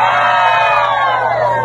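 A crowd at a Miss Gay beauty pageant in Sto. Domingo, Albay, Philippines, shouts and cheers loudly in a steady, continuous roar of many voices, filling the space nearby.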